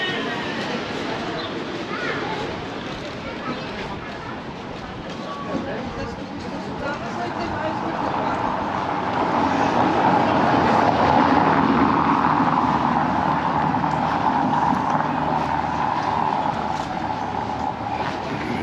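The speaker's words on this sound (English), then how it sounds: "The traffic goes over them. They're not going very slowly. It's just the tyre noise." Steady broadband road noise from traffic tyres rolling over a noisy road surface in Paguera, Mallorca, swelling louder midway as vehicles pass at moderate speed, with a voice talking faintly underneath.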